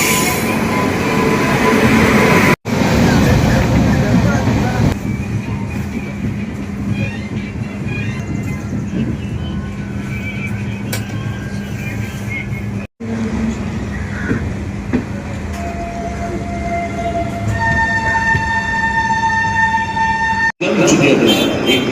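A Rani Chennamma Express train at a railway station, with a loud steady rumble of carriages and wheels, occasional squeals and tonal whines, and people talking throughout.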